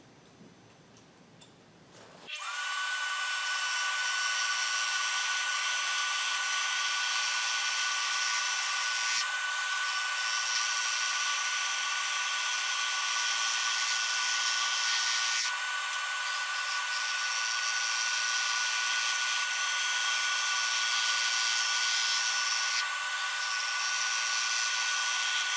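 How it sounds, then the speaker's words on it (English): Scroll saw cutting a round disc from MDF, a steady high mechanical buzz and whine starting after a quiet moment and running continuously, close and loud. "I'm ready to cut my round disc out on my scroll saw, and I typically cut just outside the line"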